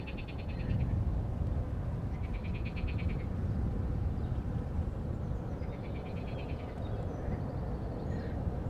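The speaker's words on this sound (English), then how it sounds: "So if you listen closely, you can hear frogs, you can hear some birds chatter" Frogs croak in short rattling bursts near Amsterdam Schiphol Airport, repeating a few times over a loud, constant low rumble of outdoor background noise, with no voices.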